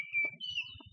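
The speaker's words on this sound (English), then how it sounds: "the loud, shrill one. That's not the chirp he usually makes, though. Anyway, that's an oriole." An oriole sings loud, shrill whistled notes, one sustained tone and then a rising, wavering phrase, close and clear over faint low background murmur.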